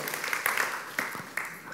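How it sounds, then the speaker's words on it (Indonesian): Church congregation at a Sunday service applauding, a fairly faint patter of clapping with a few sharper claps standing out and some voices mixed in. "Berikan tepuk tangan untuk Tuhan Yesus."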